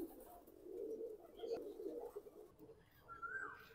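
Pigeons cooing at a national zoo in Bangladesh, soft low repeated coos that are faint and fairly close, with light background ambience and no speech.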